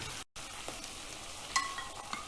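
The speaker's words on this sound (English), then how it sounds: "I'll just give the slurry a mix" Cornflour slurry is stirred into a noodle sauce in a pan, giving a soft, continuous sizzle and scraping swish with a brief pause and a few light clinks of the utensil.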